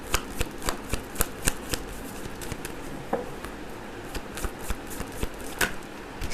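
Tarot cards being shuffled by hand, a continuous papery riffle and patter with repeated soft slaps, close and steady throughout.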